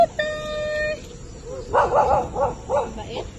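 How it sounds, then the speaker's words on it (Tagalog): A dog at a raw campsite in Tambo Balagbag, Indang, Cavite gives a run of four or five short, fairly close barks after a brief whistle-like tone, with faint voices in the background. "Mababait yung mga ganitong aso"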